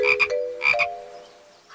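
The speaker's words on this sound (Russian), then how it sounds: "Эй, это же просто лягушка!" A cartoon frog croaks twice in short, bright bursts, each made of a couple of quick pulses over a sustained musical tone, close and loud with no talk.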